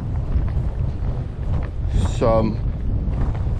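Strong, gusty west-northwest wind buffets the microphone at a shore, a steady low roar that swells and dips throughout, with a brief voice in the middle.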